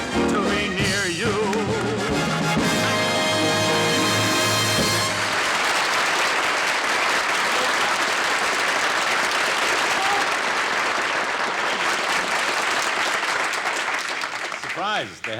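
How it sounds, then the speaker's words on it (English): A television studio audience bursts into loud, sustained applause that fills the space for over ten seconds, following a brief stretch of singing with music, in a 1958 broadcast. "all that applause is not just for me alone"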